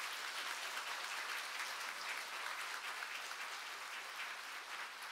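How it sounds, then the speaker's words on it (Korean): Steady, dense applause from a large church congregation at a New Year's Eve service fills the space, continuous and even for the whole stretch, with no voices standing out. "우리 함께 격려의 박수를 드리도록 하겠습니다"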